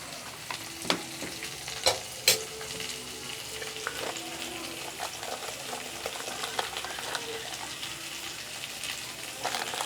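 Ginger paste and tomato fry and get stirred in a pan for a spiced potato, pumpkin and chickpea curry with hing. A soft, steady sizzle runs throughout, broken by a few sharp clinks and scrapes of the spoon, with no talking.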